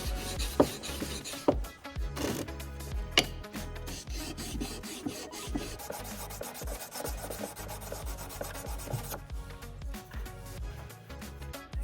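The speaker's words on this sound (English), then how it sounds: "Every now and then we just want to be turning that stone over, coming in from this end, again so that we don't end up with any grooves in this stone." A carpenter's chisel rubs back and forth on a sharpening stone in quick rasping strokes, close and fairly loud, with a few sharper scrapes early on and no talk.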